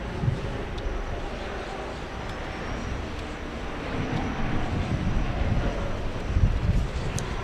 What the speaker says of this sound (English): Your plane taking off. We have Lot 7 flying to Warsaw, 787-8.